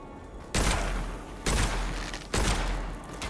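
Gunshots in the video game Witchfire, three heavy blasts about a second apart, each with a long booming tail, loud and close with no talk over them.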